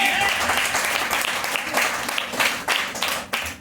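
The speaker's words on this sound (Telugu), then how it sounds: "గట్టిగా చప్పట్లు కొట్టండి." A church congregation claps loudly together, a dense sustained wave of applause that swells and dips in bursts, with a voice faintly heard under it.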